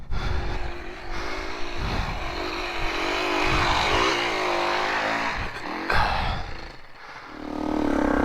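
Yamaha TTR 230 dirt bike engine revving and straining while riding through sand, loud and near, with the engine note rising and falling as the throttle changes.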